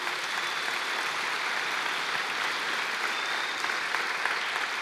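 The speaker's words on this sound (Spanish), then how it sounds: "¿Quieres darle un aplauso al Señor por ello?" A church congregation applauds continuously, a dense, even wash of many hands clapping together for about five seconds with no pauses and no voices standing out.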